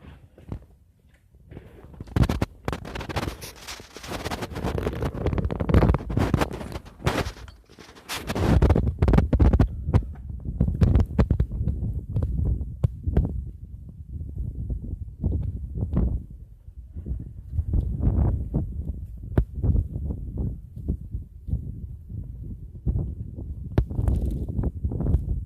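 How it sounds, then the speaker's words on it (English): Snowstorm wind in northern Iowa gusting and whipping outside a three-stall garage, a dense, rumbling roar that swells and eases in irregular bursts, with no talking. "The snow's blowing."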